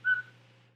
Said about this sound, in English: besides the whistling